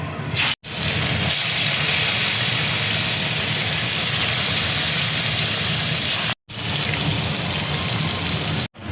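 Fish frying in hot mustard oil in a wok, a loud, dense, continuous hiss and spatter close by, broken by two short cuts.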